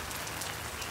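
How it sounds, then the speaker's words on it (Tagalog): Heavy rain pounds down steadily on the overgrown grounds of a church, a dense, even hiss of drops striking surfaces with no gaps and no voices. "Lakas ng ulan."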